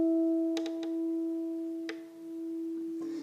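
Two guitar harmonics ring together slightly out of tune, a pair of steady sustained tones that fade slowly, with a few light string or finger clicks over them.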